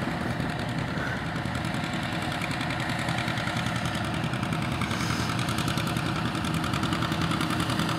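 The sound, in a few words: John Deere vintage tractor engine idling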